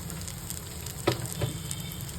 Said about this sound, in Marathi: आता गरम पाणी घालायचं याच्यामध्ये